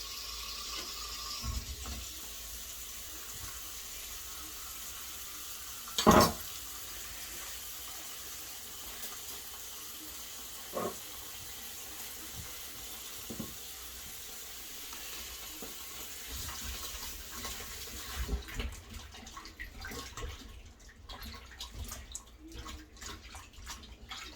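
Food is rinsed under running tap water in a quiet kitchen, a soft continuous hiss of flowing water with a few clunks and splashes, turning more uneven and splashy near the end.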